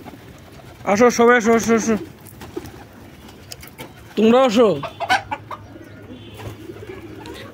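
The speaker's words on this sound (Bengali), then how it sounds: "এই যে কয়টা কবুতর নতুন আসছে" Pigeons, including newly arrived ones with brown and black necks, coo and flutter close by. A person calls out to them repeatedly in two loud bursts, with softer bird sounds in between.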